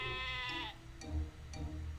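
Sheep bleating inside a visual novel game: one long wavering bleat, then two shorter bleats, close and clear over a low steady hum, with no talking.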